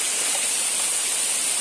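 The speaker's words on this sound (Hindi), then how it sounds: "देख सकते बहुत ही जोर से बारिश गिर रहा है। और अभी हम ये यहाँ पे मेरे पीछे है दो झरना," Heavy rain falls outdoors by two waterfalls, forming a loud, steady, dense hiss of rushing water with no break and no voices.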